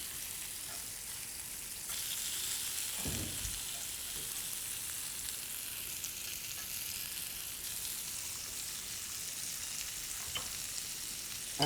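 Ginger lamb chops in a raw marinade sizzle steadily in a hot pan, a continuous fine crackle at moderate level with a brief thump partway through and no talking.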